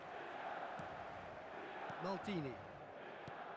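Stadium crowd in the eFootball video game, a steady roar of fans that fills the background, with a commentator's voice briefly heard over it.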